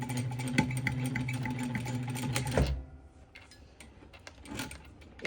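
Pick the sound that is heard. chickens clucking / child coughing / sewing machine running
sewing machine running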